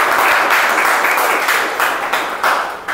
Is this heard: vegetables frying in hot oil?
no